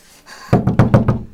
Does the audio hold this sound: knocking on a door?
yes